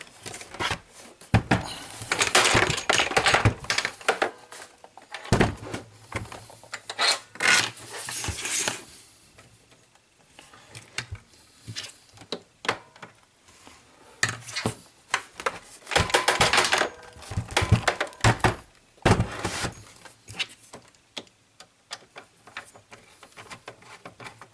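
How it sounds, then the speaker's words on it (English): Screws rattle and clatter out of an overturned Sharp GF9191 boombox during disassembly, with irregular bursts of small metallic taps and shuffling handling noise, close and fairly loud, separated by quieter pauses. "So now I'm going to turn the whole thing over and hopefully the screws will fall out."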